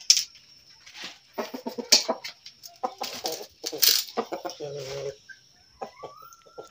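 Chickens cluck and squawk close by in scattered bursts, with a few sharp calls rising over a quiet background.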